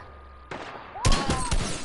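Gunshots in the video game Fortnite, a couple of sharp close blasts following a short quiet lead-in, loud and abrupt with no talk.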